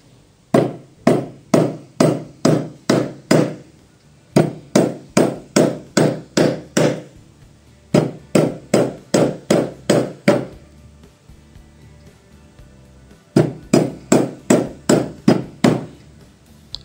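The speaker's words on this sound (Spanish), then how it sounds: "vamos a martillar la pulsera y vamos a ver cómo queda" Hammer striking an aluminium bracelet on the anvil of a bench vise, sharp metallic blows in four rhythmic bursts of about six to nine strikes each, with short pauses between, close and loud with no speech.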